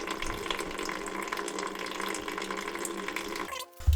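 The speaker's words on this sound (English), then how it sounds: "So after draining that horrible looking oil, or should I say water" Watery, milky oil draining from a Honda Z50A engine pours in a continuous, fairly close splashing stream, stopping abruptly near the end.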